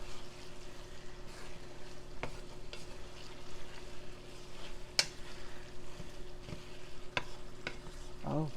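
Cheese being mixed into taco spaghetti in a pot, a low steady simmering hiss with occasional faint scrapes and a few sharp taps of the spoon on the pot.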